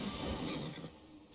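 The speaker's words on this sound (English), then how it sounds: "How do I call my horse again like that?" A horse in the game V Rising gives a short, faint whinny when called, brief and somewhat muffled, with no talk over it.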